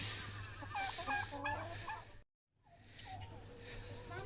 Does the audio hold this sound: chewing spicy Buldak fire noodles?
no